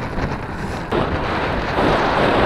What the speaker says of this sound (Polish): to już nie jest wiatr. To już jest normalnie sztorm, pod który trzeba jechać.